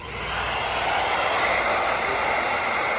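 A hair dryer blows steadily with a continuous broadband whoosh, running close and loud without pause and with no voices.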